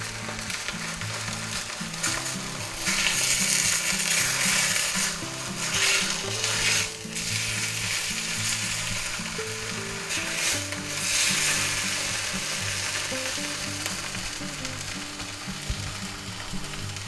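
Ham sizzles and fries in a hot oiled pan, a steady loud crackling hiss lasting throughout with a few scraping, clicking stirs and no talk.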